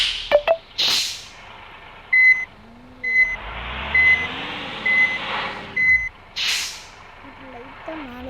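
A vehicle backing into a parking spot gives out evenly spaced reversing beeps, about six pulses roughly a second apart, over a low engine rumble, with short bursts of air or hiss at the start and near the end.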